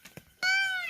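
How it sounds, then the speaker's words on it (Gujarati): A peacock calling in the rainy Gir forest, a single loud, close, drawn-out wailing cry after a few faint knocks. "જો મોરલા બોલે છે"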